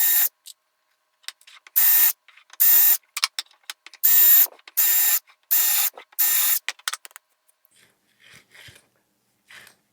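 A power drill bores a row of screw holes into a wooden lazy susan disc, running in about five loud, steady bursts of roughly half a second each, separated by short pauses and small handling clicks, with no talking.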